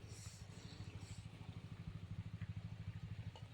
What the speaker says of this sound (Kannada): ಹಿಂದೆ ಒಂದು ಟ್ರ್ಯಾಕ್ಟರ್ ಹೋಗ್ತಿದೆ ನೋಡಿ